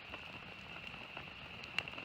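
Steady rain patters on surfaces at a forest campsite in Siuslaw National Forest, a continuous soft hiss with faint scattered drops and one brief sharper tap, fairly quiet throughout.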